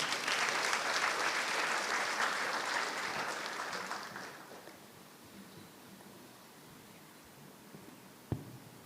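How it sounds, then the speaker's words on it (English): Audience applause greets a senior professor walking on stage at an MBA inauguration ceremony, a dense crowd clapping loudly for about four seconds before thinning and fading into room quiet, with one sharp thump near the end. "let's put our hands together"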